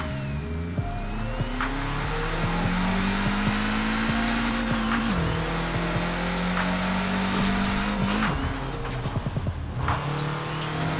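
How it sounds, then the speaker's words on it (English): Peugeot 205 T16 engine in Forza Horizon 4, a loud turbo rally car revving and holding steady tones, with two distinct gear-shift drops and clunks and some tire noise underneath, continuous throughout. "Nice little notes there. Clunk when it's shifting gears, which is nice to have."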